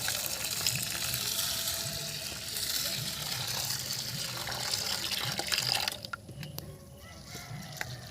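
Water pours steadily over homemade split lentils in a bowl to soak them, a close, continuous gush that stops after about six seconds, leaving faint handling sounds.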